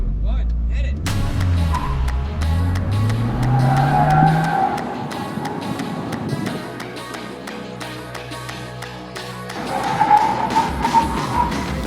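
A car launches hard on an autocross track, the engine revving up loudly before tires squeal and skid in a long rising screech, then the engine settles and roars again close by.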